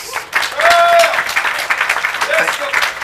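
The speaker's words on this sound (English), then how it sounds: "Give me a round of applause" Loud applause erupts from a crowd at a youth advocacy forum, bursting in after a brief voice and continuing with uneven intensity, with a voice briefly audible through it.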